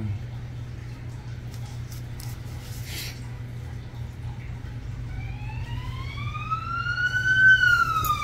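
An ambulance siren wails, sweeping upward and growing louder over a steady low hum, approaching from a distance.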